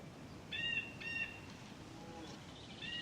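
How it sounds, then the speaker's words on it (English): Birds chirp in the woods in the survival video game DayZ, with short bright calls in a few separate bursts over a low ambient background, moderately near and fairly quiet. "I believe the other players they'll hear birds at different times to me"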